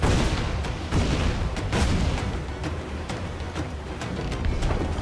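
Ship cannons fire during a naval battle in Assassin's Creed IV: Black Flag, a run of repeated booming shots over a constant loud rumble, with no talking.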